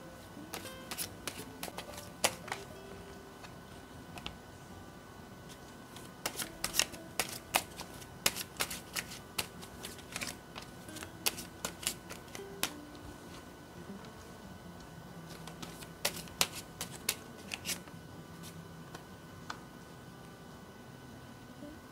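Tarot cards are shuffled in quiet, crisp bursts of riffling and clicking that come in several separate spells, with no talking.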